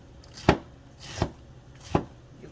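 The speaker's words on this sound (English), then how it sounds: "So I'm gonna just slice this like this." A knife slices through food down onto a cutting board in three sharp, evenly spaced strokes, close and clear with no talking.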